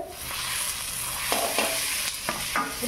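A bitter gourd stuffing of onion, nuts and spices is stirred in a hot pan, with a continuous close sizzle broken by several brisk scraping strokes of a spatula.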